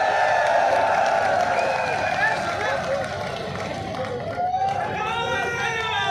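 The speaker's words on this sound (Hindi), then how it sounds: "मैं चाहूंगा कि एक बार खड़े होकर के जोरदार तालियां बजा करके हनुमान जी बेनीवाल का स्वागत करें" A large political rally crowd welcoming Hanuman Beniwal under a marquee tent cheers loudly and steadily, with raised voices and shouts over dense, continuous hubbub and some clapping mixed in.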